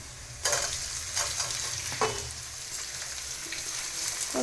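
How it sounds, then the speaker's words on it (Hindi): Onions and turmeric frying in a pan, a bright continuous sizzle with a few spoon knocks and scrapes as they are stirred, near and steady. "अब इसमें डाल दूँगी थोड़ी सी हल्दी और हल्दी को भी भून सी के फिर ये डाल दूँगी मूली"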